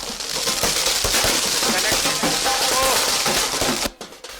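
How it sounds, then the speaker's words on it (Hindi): Fireworks burst at a street celebration in Ranchi for Droupadi Murmu's presidential election win. Loud, dense crackling and popping runs continuously, with voices mixed in, before cutting off abruptly near the end. "ये आतिशबाजी है जीत की।"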